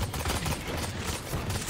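Rapid gunfire from the video game Valorant crackles in a dense, continuous burst of loud shots over the short moment.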